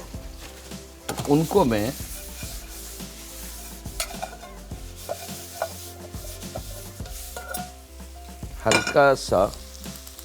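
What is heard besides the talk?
almonds shallow frying in a little oil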